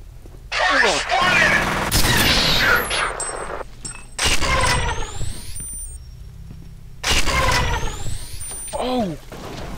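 A laser weapon fires in the video game F.E.A.R., loosing rapid bursts of zapping shots in several loud volleys with short pauses between them, over game background noise.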